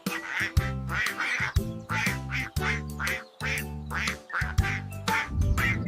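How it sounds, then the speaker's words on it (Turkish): A duck quacks repeatedly in loud, nasal bursts, about a dozen calls in a steady, close-up series. "Evet, bu bir ördek."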